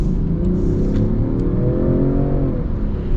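A 2024 Range Rover Sport SUV with an inline-six engine accelerates hard, the engine note climbing steadily in pitch over about three seconds, heard from inside the cabin with a deep, smooth drone and road rumble.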